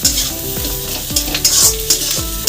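Potato mash with chopped coriander is stirred in a pan, a spoon scraping in repeated quick strokes over a light sizzle, close and fairly loud, with no talk.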